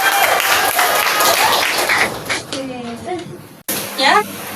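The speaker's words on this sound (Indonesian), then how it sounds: "Tepuk tangan." A school class applauding during a religious studies lesson, a short dense burst of clapping that fades within a few seconds as voices and chatter take over.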